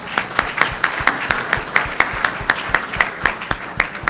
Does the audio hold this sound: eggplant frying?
no